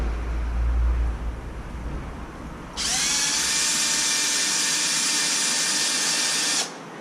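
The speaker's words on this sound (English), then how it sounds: "What we're gonna do is take out these 4 little screws" A power screwdriver removes four little screws from the center differential cup of a Super Typhon RC car chassis, with a steady close whine lasting a few seconds over low background rumble, with no talk.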